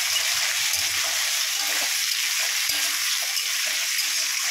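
Potatoes fry in a pan of hot oil as they are stirred, giving a steady, close, loud sizzle with soft scraping from the spoon throughout, and no voices.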